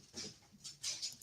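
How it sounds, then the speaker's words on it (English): Dogs play indoors, giving a few brief soft yelps and whimpers in quick bursts, faint and close by. "The dogs are playing around right now."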